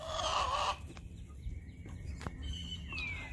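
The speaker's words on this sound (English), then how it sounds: "And the chickens do not like it." Chickens on a farm clucking and calling close by, a short burst of loud squawking at the start followed by softer scattered clucks over a noisy outdoor background.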